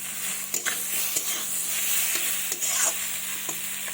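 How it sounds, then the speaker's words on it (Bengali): Spice paste for a fish and papaya curry fries in a pan with steady, close sizzling, broken every second or so by the scrape of a spoon stirring through the masala. "তো মশলা আমার ভালোভাবে কষানো হয়ে গেছে"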